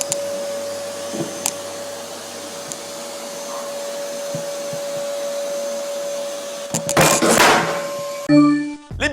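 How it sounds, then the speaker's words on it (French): A vacuum cleaner drones with a steady tonal whine under faint background noise, then a louder burst of rough suction and clattering bumps before a short electronic tune. "Voici un aspirateur qui fait de la drogue"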